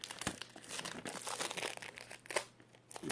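Plastic packaging for red braided 6AN hose crinkles and tears as scissors cut it open, a close, fairly quiet stretch of rustling and crackling with a sharper snip partway through and no talking.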